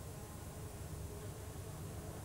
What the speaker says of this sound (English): Bees and flowers go together very well.